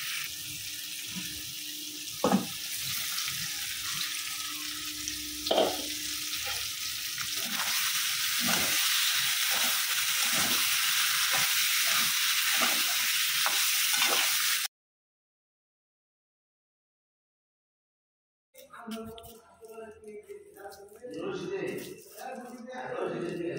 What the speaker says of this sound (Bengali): ডিমটা দিয়ে ভালোভাবে কষায় তারপর জলটা দিব